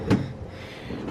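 A drawer in a hotel guest room at Port Orleans Riverside slides open or shut with a single quick knock up close, followed by quiet room tone.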